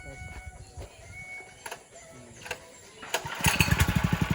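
A small water pump engine is cranked and sputters into a fast, rapid-firing chug that builds in the last second, following a few earlier pull attempts and clanks, with a voice briefly heard.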